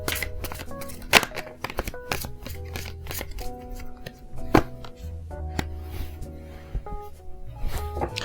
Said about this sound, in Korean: 제가 로맨스 엔젤 카드 뽑아드리도록 하겠습니다